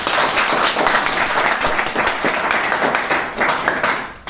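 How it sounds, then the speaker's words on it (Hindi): Audience at a leadership talk breaking into sustained applause, dense overlapping hand claps that stay loud and steady for about four seconds before cutting off, with no one speaking over it. "तो आप भी ताली बजाइए।"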